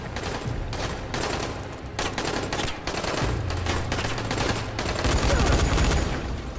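Sustained machine gun fire sprays bullets in the zombie video game Dying Light, a steady rapid rattle of shots with brief gaps, loud and continuous through the whole stretch, with no voices over it.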